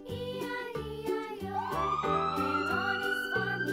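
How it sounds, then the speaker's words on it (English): Ambulance siren sound effect in a children's vocabulary nursery-rhyme song: a rising electronic wail over bouncy music, with no voices. "Ambulance, ambulance."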